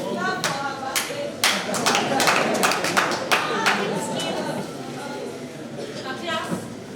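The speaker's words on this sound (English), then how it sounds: "Clap for her birthday." A classroom of students claps for a classmate's birthday, with scattered sharp hand claps that thicken into a loud, uneven burst of several seconds before thinning out.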